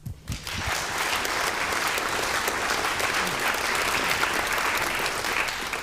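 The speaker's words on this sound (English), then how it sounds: "one final applause for Alena, a student representative that was here at the EUNIS Congress" A congress audience at a closing session breaks into sustained, dense applause after a brief quiet start, the clapping staying loud and even throughout with no talking over it.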